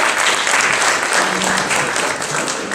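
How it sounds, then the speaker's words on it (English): Audience applause fills a hall at an athletic hall of fame induction ceremony, steady and dense throughout, with a faint voice underneath. "Let's give these folks a round of applause as well"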